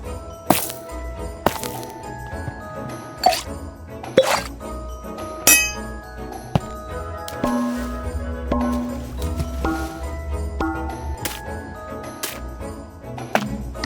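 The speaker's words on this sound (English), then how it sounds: "Now, as you organize your inventory, this will sound like this." Minecraft inventory items clink and clack one after another as they are organized, sharp glassy and metallic knocks at irregular intervals over a low ambient hum.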